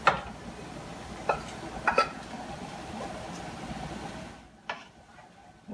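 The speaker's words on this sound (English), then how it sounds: "We'll mix everything together" Quinoa being stirred into an enchilada vegetable mix in a skillet, with a few soft scrapes and clinks of the utensil against the pan over a low sizzle, then a brief quiet and one more tap.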